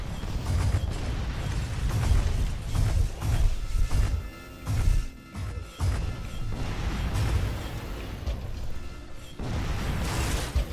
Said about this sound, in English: it's throwing bombs at me